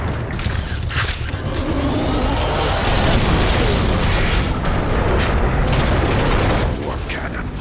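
Warp cannon blasts in the Transformers: Fall of Cybertron video game, Metroplex chapter, form a dense, continuous barrage of booming explosions and mechanical rumble that stays loud for the whole stretch, with a voice faintly present beneath.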